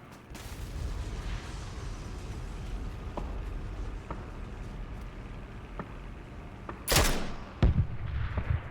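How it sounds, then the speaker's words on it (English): A blue zone grenade goes off in a battle royale video game, a sudden loud burst near the end after a stretch of faint ambient rumble and scattered distant gunfire pops. "Someone threw a blue zone grenade at me."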